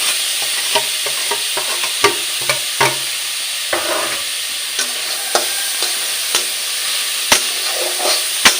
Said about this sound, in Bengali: এরকম করে ভেজে নেব, যেন গাজরের কাঁচা গন্ধ না থাকে।